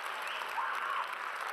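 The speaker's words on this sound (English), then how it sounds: "Can we give him a round of applause?" Brief burst of steady applause from a high school lecture audience honoring a student speaker, a dense wash of clapping with no voices.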